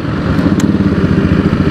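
TVS Apache RR 310 motorcycle engine running steadily while riding, a close, loud continuous mid-low rumble with a slightly pulsing texture and no talk.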